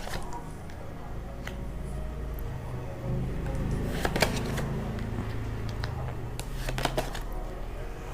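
Tarot cards are shuffled by hand, giving a steady papery riffling and flicking with a few sharper snaps. It sounds close and continuous over several seconds, with no talk over it.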